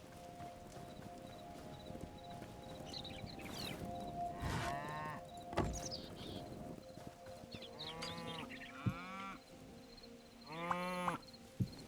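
Cows in the video game Hytale moo several times in a row, long drawn-out calls at varied pitch heard up close against a faint background hum, with no one talking.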